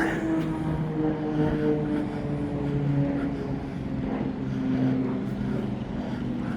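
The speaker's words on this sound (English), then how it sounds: "Sort of had like turboprop warplane type vibes to it." A turboprop plane drones steadily overhead in Liverpool, its engine hum holding a low, even tone throughout with slight swells in loudness.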